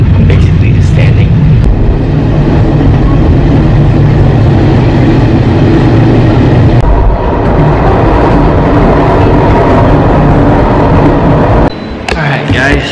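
A steady low rumble and rattling hum of a moving, packed train carriage in Prague, Czech Republic, continue throughout, with voices talking underneath.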